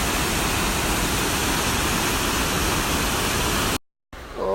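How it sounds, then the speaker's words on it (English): Killen Falls waterfall pours in a loud, steady broadband roar that stays constant, then cuts out abruptly near the end before a faint, quieter ambience returns. "We found the falls!"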